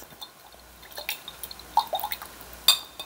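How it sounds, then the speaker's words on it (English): A paintbrush is swished and tapped in a water jar for a final rinse, giving a few soft splashes, drips and light clinks against the container, close and quiet. "Final rinse."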